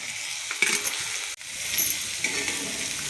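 Cabbage is stirred into spice masala in a frying pan, a close crackling sizzle with a sharp metallic clink partway through and soft scraping, no voices.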